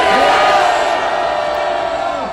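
Crowd at a conservative political rally in Seoul Station plaza shouting in unison, a sustained loud roar of many voices that holds steady and slowly fades.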